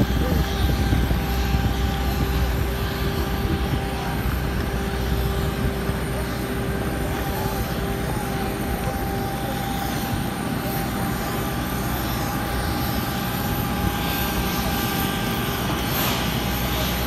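Steady, loud roar of airplane engines at an airport in Rabat, Morocco, a continuous broadband drone with a constant tonal whine running unbroken throughout.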